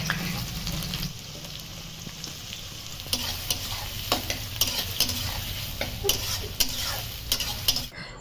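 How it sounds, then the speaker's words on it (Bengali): Cinnamon and mustard seeds sizzle loudly in hot mustard oil in a wok, a steady close crackle with scattered sharp pops and a stirring scrape at the start. "কড়াইয়ে পরিমাণ মতো সর্ষের তেল দিয়ে গরম হলে ফোড়নে দিচ্ছি দারচিনি ও সর্ষে।"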